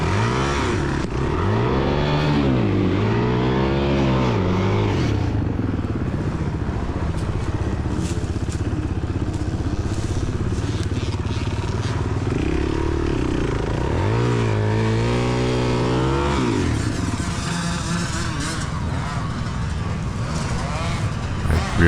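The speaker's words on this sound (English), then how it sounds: "Rear tire's just digging a hole." A Suzuki DRZ400E dirt bike revs hard and loud throughout at a cross-country race, its rear tire spinning and digging into dirt, with the engine pitch swooping up and down in repeated surges.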